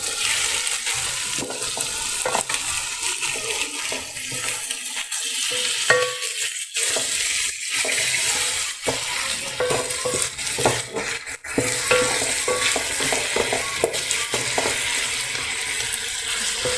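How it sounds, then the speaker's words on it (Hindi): Chopped green chillies stirred through sliced bitter gourd and onion in a hot pan, with a steady sizzle and spoon scrapes and clinks across the pan, continuous and close, no voices. "5-6 अदर हरी मिर्चें काटी थी अब वो इसके अंदर ऐड करें। अब हम इसको मिक्स करेंगे अच्छे से।"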